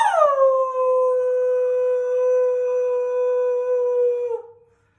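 An anxious, stressed dog lets out a long, sustained howl, close and loud, holding one steady pitch for several seconds before breaking off and trailing away.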